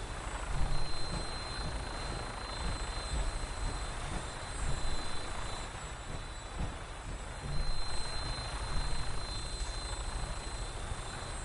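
A helicopter flies in the Fallout 4 video game, a steady rotor and engine drone holding throughout with mild swells in loudness and no talk.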